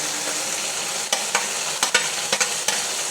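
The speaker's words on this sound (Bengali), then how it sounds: "দিয়ে দিলাম টমেটো" Tomatoes added to a simmering fish curry sizzle steadily in the pan while a spatula scrapes and taps in a few quick, close strokes.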